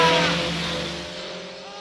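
A car drives along with a steady engine drone that is loud at first, then eases off and fades slightly over a couple of seconds, with no talk.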